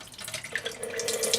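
Whey pours and drains from freshly cut feta cheese curds into a pot, a steady splashing trickle of liquid with small drips, continuous and close, with no voices.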